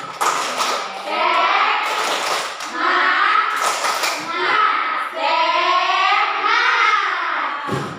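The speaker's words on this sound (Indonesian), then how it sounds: "Ya, tepuk semangat." Children in a classroom perform the rhythmic tepuk semangat spirit clap, bursts of clapping alternating with loud chanted children's voices in a quick, steady pattern.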